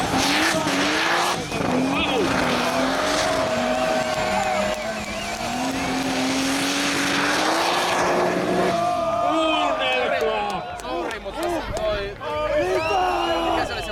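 A turbocharged BMW E34 M5 doing donuts on wet asphalt, the engine roaring with rising and falling revs and squealing tires, followed by sharp blow-off and exhaust bursts, loud and close, with people talking.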